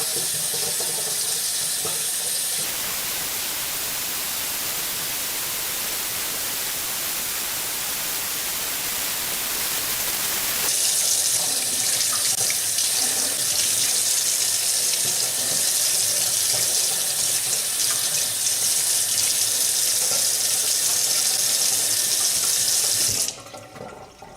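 Tap water pours steadily over freshly harvested valerian roots as they are rinsed clean of soil. The rush is loud and continuous, shifting in force twice as the stream is adjusted, and it cuts off just before the end.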